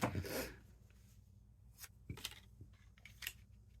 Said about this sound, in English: these scissors are messed up and they don't cut straight